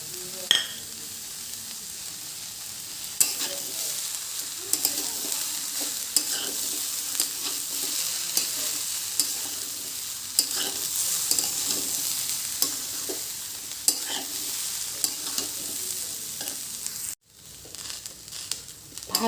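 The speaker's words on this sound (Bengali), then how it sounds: "ভাজা ভাজা করে নেব।" Vegetables with ginger paste sizzle steadily in hot oil for khichuri while a utensil scrapes and stirs them in repeated strokes, close and continuous, with no talking; the sizzle cuts out briefly near the end.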